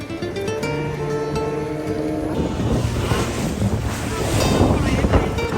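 A boat heads out to sea off Pondicherry, with steady wind buffeting the microphone and the wash of waves rising as it gets under way. A low engine drone runs underneath, and nobody speaks.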